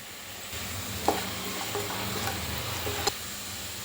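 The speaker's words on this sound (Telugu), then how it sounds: "మీడియం ఫ్లేమ్లోనే చేసుకోవాలండి ఇది మొత్తం ఉల్లిపాయలు గోల్డ్ కలర్ వచ్చాయండి ఇప్పుడు కొద్దిగా పసుపు వేసుకుందామండి" Golden onions frying with a pinch of turmeric on a medium flame, a quiet steady sizzle with a few spoon taps and stirring scrapes against the pan.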